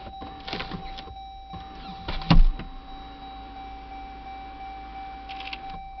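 Power sunroof on a 2015 Jeep Grand Cherokee Overland sliding open, a steady electric motor whir with a sharp click or thump near the middle, heard up close inside the cabin with no talking.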